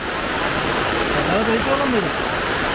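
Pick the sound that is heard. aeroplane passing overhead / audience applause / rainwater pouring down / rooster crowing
rainwater pouring down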